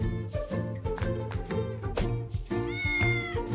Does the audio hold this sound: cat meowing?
yes